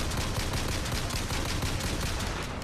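Sustained rapid machine gun fire from the BioShock Infinite video game, a dense continuous burst filling the whole stretch at steady loudness with no pauses.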